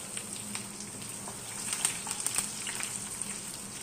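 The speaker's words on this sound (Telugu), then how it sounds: "తాలింపు పచ్చివాసన లేకుండా బాగా వేగాలి" Garlic tempering for a broad bean fry sizzles and crackles in a pan, a faint, steady frying hiss with scattered light pops, no talking.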